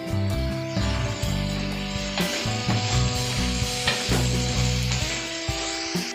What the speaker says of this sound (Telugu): ఈ ఆనియన్స్ బాగా కుక్ అయిన వరకు ఫ్రై చేసుకుందాం